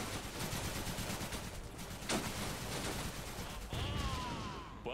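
Gunfire from units in the video game Blitzkrieg 3 rattles in rapid bursts with occasional louder shots, a dense steady battle din with a mechanical whine near the end.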